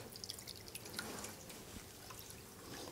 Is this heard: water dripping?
yes